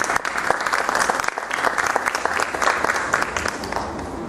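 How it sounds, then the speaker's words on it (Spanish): An audience claps loudly and steadily to welcome a dean at an evening lecture on the history of medicine, dense sustained applause filling the whole stretch. "Con un fuerte aplauso, recibimos al decano."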